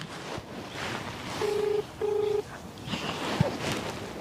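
Two steady electronic keypad tones from a phone being dialed, close and clear, each lasting about half a second with a short gap between, followed by a brief click, over faint background noise.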